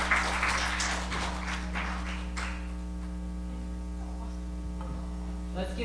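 Audience applause at a Hanuman Pooja community celebration after children's speeches, a faint, diffuse patter that fades over the first few seconds beneath a loud, steady electrical hum.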